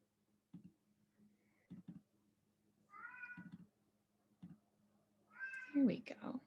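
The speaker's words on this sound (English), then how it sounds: "Sorry in advance for my cat" A loud, vocal house cat meows several times indoors: a clear meow in the middle, then a longer, rising meow near the end, with short soft vocal sounds scattered between.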